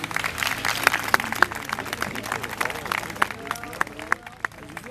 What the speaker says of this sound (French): J'ai pas demandé que vous applaudissiez